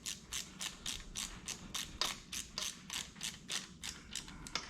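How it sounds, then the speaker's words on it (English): A socket ratchet backs out the fuel pump on a 1986 Ford F250, giving about a dozen quick, even clicking bursts in a steady rhythm, close but quiet, with no talking. "we can actually walk this one all the way out with our socket, because the pump is kind of coming out with it"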